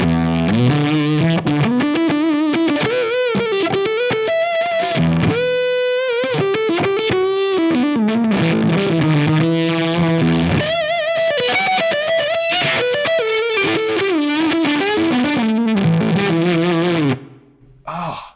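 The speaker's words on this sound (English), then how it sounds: "So let's hear like some of the single band octave effects." Electric guitar through a Source Audio Multiwave Distortion pedal's single band octave effect, sustained notes and bends with thick doubled low tones, fairly loud and continuous, cutting off near the end.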